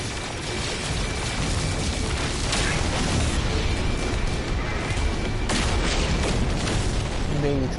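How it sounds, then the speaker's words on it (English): Heavy rumbling blasts from the video game No Man's Sky fill the scene with a continuous, loud roar of booms and bursts, and a sharper hit lands partway through; voices are faintly present under the noise. "Big explosions and stuff."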